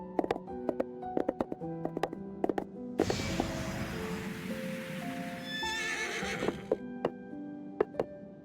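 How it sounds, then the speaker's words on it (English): A horse whinnies loudly in a video game with no voices in the clip, backed by a clear clip-clop of hooves and ringing musical tones. "Giddy up, horsey."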